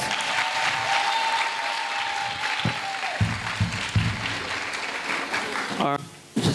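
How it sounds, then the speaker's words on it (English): Audience at a primary school graduation ceremony applauds two young athletes, a steady wash of clapping lasting throughout with a sustained tone early on and some voices near the end. "Please give them a round of applause."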